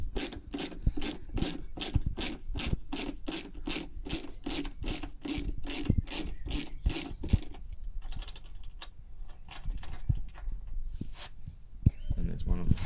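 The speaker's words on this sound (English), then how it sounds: "Then we're going to remove the headlights, so just unscrew here." Fasteners on a Smart car headlight being unscrewed with a ratcheting tool: a fast, even run of close clicks for about seven seconds, then scattered scrapes and handling noises.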